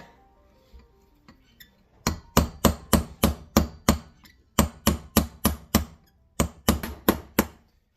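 Sharp metallic strikes ring out in quick rhythmic bursts: a brass punch hammered against metal while fitting a limited-slip differential for a Honda, about fifteen close, loud blows in three runs with brief pauses.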